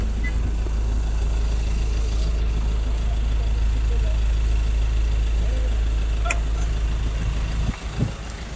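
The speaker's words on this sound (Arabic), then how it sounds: "نوريها لكم ان شاء الله الموتور." A 2017 Ford Ranger engine idling with a steady low rumble, close and continuous, with a faint tick near the end.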